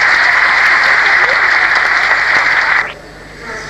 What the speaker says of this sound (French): Et je crois qu'on peut les applaudir.